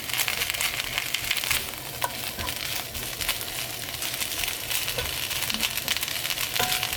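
Garlic, about a tablespoon and a half, sizzles and fries steadily in a pan on its way to seasoning bracken fern namul, a dense continuous crackle with scattered small pops and no voices.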